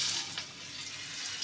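Ground spices, among them cumin, radhuni and black cumin, stirred and sautéed in hot oil for a Bangladeshi fish curry, giving a steady close sizzle with soft scraping, no voices.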